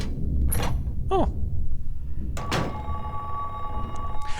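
A telephone rings in the horror game Silent Hill 3, sounding in short bursts amid eerie ambient tones, thuds and a steady background hum.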